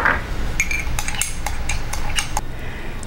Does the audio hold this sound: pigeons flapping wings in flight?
no